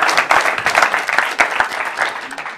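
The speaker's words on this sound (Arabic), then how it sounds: "صفقوا لو سمحتوا" Close, lively audience applause at a comedy show, loud and uneven with distinct sharp claps and rising and falling bursts throughout.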